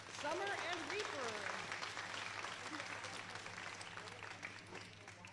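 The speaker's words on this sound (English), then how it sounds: "Let's give a big round of applause for Summer and Reaper" Applause rises at an alpaca show, a fairly soft, continuous patter of clapping from the crowd. Voices and cheering mix in near the start before the clapping slowly fades.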